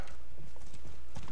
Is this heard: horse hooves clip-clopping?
yes